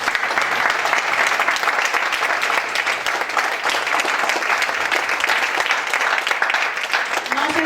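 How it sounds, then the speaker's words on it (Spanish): Sustained applause from a church congregation clapping for the Lord, a dense steady wash of many hands at even loudness throughout, with a few indistinct voices mixed in. "le damos un aplauso al Señor"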